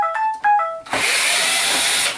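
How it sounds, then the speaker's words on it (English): A phone rings with a short, bright electronic melody of a few tones, then it cuts to a loud steady hiss for the rest. "Sorry for my phone ringing."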